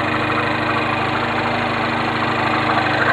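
A 1.6 liter four-cylinder turbocharged engine in a Mini Cooper S idles steadily and up close, with a constant low rumble and no voices.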